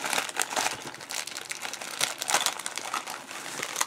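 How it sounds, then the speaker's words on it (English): Rapid crinkling and tearing of a mail package holding Jinhao 159 fountain pens, a close, busy run of crackling rips with no talk. "They're in there pretty good, so let's rip that open."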